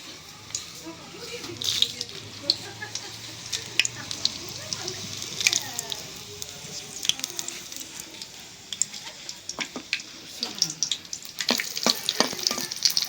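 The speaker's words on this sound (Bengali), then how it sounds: "শুকনা মরিচগুলি একটু কড়া করে ভাজা নেই" Dried red chillies, torn by hand, frying in a generous amount of soybean oil for khichuri, giving a steady low crackle and sizzle with scattered stirring clinks and faint background sounds.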